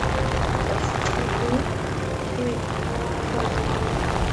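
A light airplane in flight, descending, makes a constant loud droning engine and propeller hum with wind noise that fills the cabin, while a voice talks over it.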